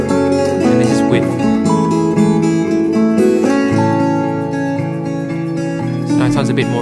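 Full pop song mix with MIDI shakers layered in, giving a busy, steady rhythmic texture over sustained chords and bass, loud and continuous throughout.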